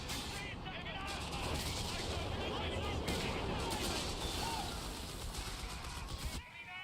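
Battlefield gunfire in the video game Dawn of War III: a dense, steady clatter of shots and heavy blasts layered together for several seconds, with voices mixed in, ending in a brief dip.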